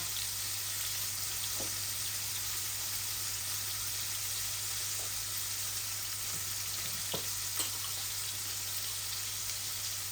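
Cooking oil sizzles in a pan ahead of a rohu fish curry with beans, a steady close hiss running throughout with a few faint ticks and pops and a low hum beneath.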